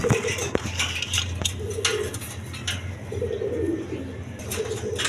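Big-sized pigeons give soft cooing phrases at intervals against a steady, noisy background with scattered clicks and light clatter.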